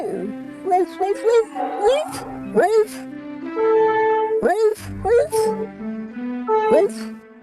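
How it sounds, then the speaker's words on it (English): A dog yips, whimpers and gives short howling barks in bursts, close and clear, with pauses between the cries. "When the old couple returned home sadly, their dear dog Max barked to greet them."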